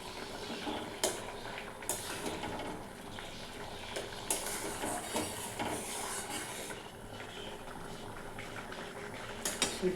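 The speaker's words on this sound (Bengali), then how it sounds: "দেখুন সেদ্ধ হচ্ছে এখন" Potatoes and pumpkin boil in salted turmeric water in a pot, giving a continuous close bubbling hiss punctuated by irregular louder pops and gurgles.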